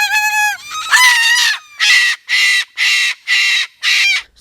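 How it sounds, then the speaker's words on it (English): A bird squawks and honks frantically at close range, first in a long ragged run of cries, then in five evenly spaced loud harsh calls with brief gaps between them. "I got iPhone video of this bird going absolutely crazy"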